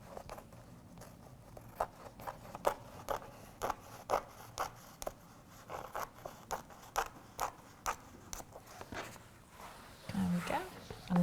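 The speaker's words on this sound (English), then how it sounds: "So I'm just going to cut straight up the side." Scissors cutting straight up the side of a PVC lampshade panel and its self-adhesive strip, producing a close, irregular series of crisp snips and scrapes.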